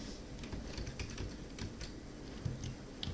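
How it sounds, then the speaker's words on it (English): Rapid, soft key clicks on a computer keyboard as a file name is typed, a steady close-up patter of keystrokes with no talking. "So now I need to type the file name"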